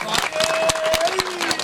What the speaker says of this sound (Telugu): చప్పట్లు కొట్టను మరొకసారి గట్టిగా